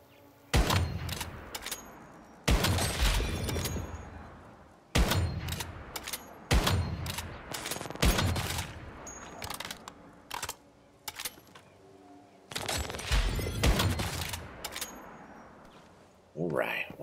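Sniper rifle fire in the survival shooter Once Human, loud cracking shots in clusters at uneven intervals with rattling mechanical clicks and echoing tails, while a voice talks in between.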